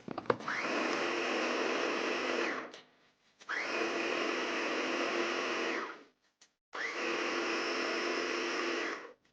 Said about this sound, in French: On va tout mixer.